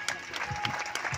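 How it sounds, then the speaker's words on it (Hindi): Audience clapping at a garlanding during a Lota Pani program in Lathikata, a brief burst of scattered handclaps, fairly quiet and slightly distant. "मैं यह फूल माला पहनाऊँ और हम सब की ताली बजाएंगे।"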